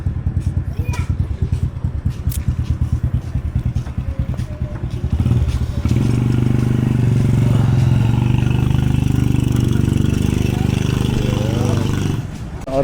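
A motorcycle engine idles close by with a rapid, even putter that shifts into a smoother, louder drone partway through, while people talk nearby.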